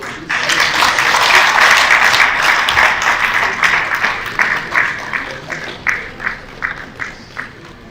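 An audience claps steadily to welcome the Minister for Solid Minerals at a Nigerian mining industry event, a full dense applause that thins into scattered, separate claps toward the end.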